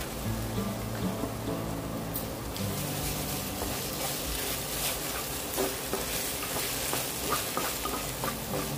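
Onions sizzle and crackle steadily in a hot pan as crushed ginger goes in and is stirred through, a continuous close frying hiss with scraping stir sounds and no talking.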